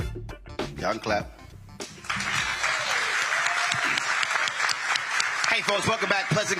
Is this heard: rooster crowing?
no